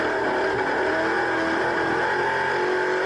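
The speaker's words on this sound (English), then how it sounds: "the Camaro's taking off hella fast" Camaro and Mustang muscle cars pull away hard from a standing start at Phillip Island, a steady, loud, sustained engine roar with rising revs and no talk over it.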